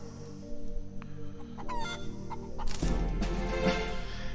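Chicken clucking in the video game Breathedge, a few short clucks over a steady low game hum with music, rising louder in the last half.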